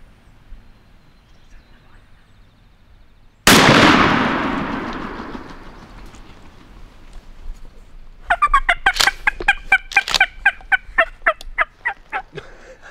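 A single loud shotgun blast at a wild turkey during a hunt cracks out sharply and rings away, followed by a rapid series of turkey gobbles and clucks nearby.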